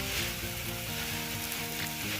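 Tomato with turmeric, coriander powder and chilli powder frying in a pan, a loud, dense, continuous sizzle up close with faint stirring, no talk.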